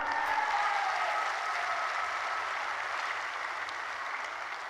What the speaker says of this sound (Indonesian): kita beri tepuk tangan Dinas Pariwisata